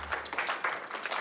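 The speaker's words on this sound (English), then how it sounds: "It's even a slow clap" A slow clap of applause at a sparsely attended wedding reception, a few scattered claps repeating at an unhurried pace at moderate distance.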